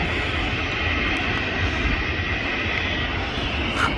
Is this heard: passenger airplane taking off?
yes